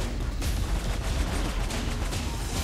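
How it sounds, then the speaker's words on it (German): Gunfire in Saints Row IV comes as a dense, continuous barrage of loud shots and blasts, packed tightly together with no clear gaps. "einfach mal reinballern"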